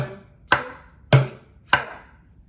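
Bucket drumming for a chorus: three sharp, loud, evenly spaced hits on a plastic bucket, each ringing briefly and fading, with nothing else playing.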